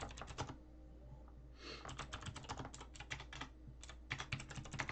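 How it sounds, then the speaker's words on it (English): Quick bursts of keystrokes clatter on a computer keyboard, coming in rapid clusters with short pauses, close and fairly quiet. "I'll have to type this in real quick."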